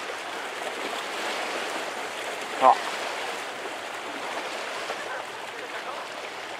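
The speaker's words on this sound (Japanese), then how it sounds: "波の音ね。" Ocean waves wash in a continuous, moderately loud rushing hiss, steady with no clear breaks, while someone briefly speaks once in the middle.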